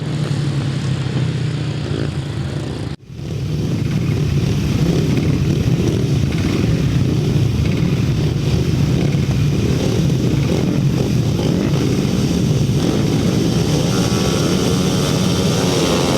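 Grasstrack racing motorcycles roar away from the start line at a May meeting in Bewdley, a loud sustained wall of engine noise after a brief near-silent gap, the pack's drone continuing steadily throughout.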